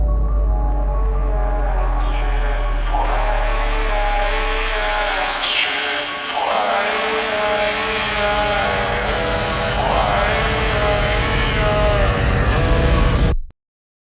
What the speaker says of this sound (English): So that's the entire remix.